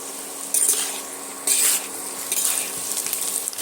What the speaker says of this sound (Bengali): দিয়ে আমি আলুর সঙ্গে এইভাবে একটু ভেজে নিচ্ছি।